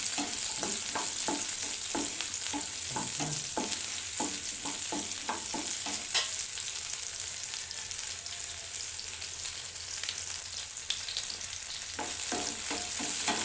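Onion and garlic sautéing in a pan for a paneer butter masala, with steady close sizzling and frying hiss and a series of sharp stirring scrapes from a spoon against the pan, no talk.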